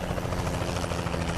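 A loud, steady rotor thump from a helicopter flying overhead in American Truck Simulator, close and continuous with no voices.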